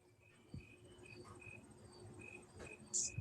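A sound machine plays faint, repeated high cricket chirps at a quiet level in an indoor room, with a few soft bumps and rustles around them.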